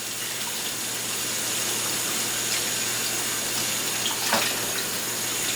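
Tap water running steadily over raw oxtails in a kitchen sink as they are rinsed, a continuous hiss with a few brief splashes near the end, no voices.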